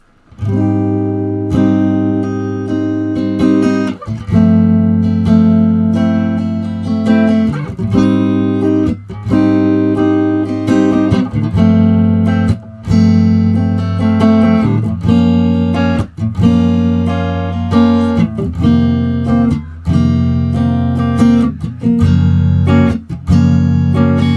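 Slow guitar chords from a song's bridge strummed one after another, each ringing out before the next change, played alone with no voices.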